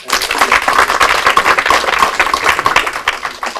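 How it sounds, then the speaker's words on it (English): An audience at a community meeting on Anaheim Street renovations in Cambodia Town claps steadily for a presenter, a loud, continuous crowd of hands filling the room throughout. "let's give him a round of applause"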